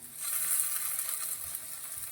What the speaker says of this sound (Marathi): यानंतर आपण आता या परतलेल्या कांद्यामध्येच टोमॅटो घालून घेणार आहोत